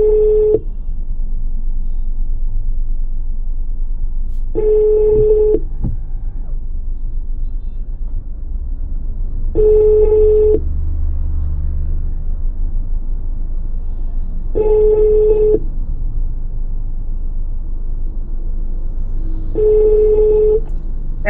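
A telephone call being placed in Togo, with a steady tone sounding five times in regular bursts about every five seconds, each lasting roughly a second, over a constant low rumble of background noise.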